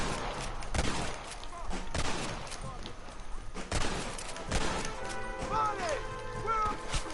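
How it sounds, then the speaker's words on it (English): Gunfire in a shootout from the video game Red Dead Redemption: several loud sharp shots and crashing impacts ring out over a busy background, with voices in the mix. "This should be a fair fight if you can shoot straight."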